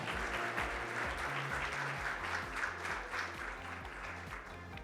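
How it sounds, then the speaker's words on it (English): Sustained applause from a large audience at an award ceremony, steady and full throughout, with music playing underneath. "can we now give all of our award winners from today a big round of applause once again?"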